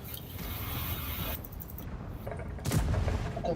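Tank cannon fire and mechanical clanks in World of Tanks gameplay, with a couple of heavy booming shots over a rumbling, gritty battlefield background and a loud burst near the end.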